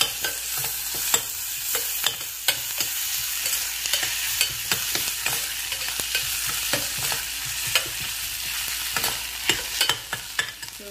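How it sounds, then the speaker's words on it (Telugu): Onions with ginger garlic paste frying in a pan for brinjal masala, a steady close sizzle with repeated scraping stirs of a spoon throughout, no voices. "ఇప్పుడు నేను ఇందులో అల్లం వెల్లుల్లి పేస్ట్ వేస్తున్నాను, వేసి వేయించేస్తాను ఫ్రై"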